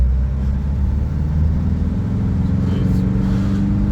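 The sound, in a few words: Nissan Navara D40 engine revving at full throttle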